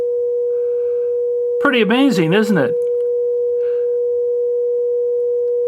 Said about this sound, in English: I think you can hear the sound being produced right now.